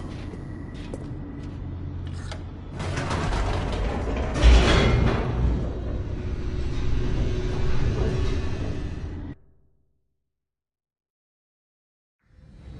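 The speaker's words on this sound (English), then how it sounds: "The elevator raced downward, plummeting towards an unknown fate." Mechanical rumbling and creaking of a descending elevator in The Stanley Parable, a steady grinding drone with clanks that swells midway, then cuts to silence before faintly resuming at the end.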